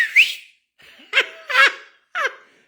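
A man whistles loudly in imitation of a kid in a hardware store, with a sharp rising note followed by three short warbling bursts separated by brief pauses, heard close and alone.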